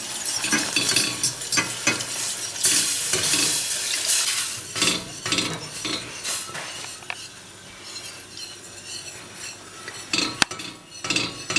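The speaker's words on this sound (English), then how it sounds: "You stir it until it's smooth and all the flour particles have disappeared." A spoon stirs a flour roux with milk in a pot for lasagna sauce, giving continuous scraping and gentle sizzling with sharp clinks of utensil against metal, close and fairly loud, with no talking.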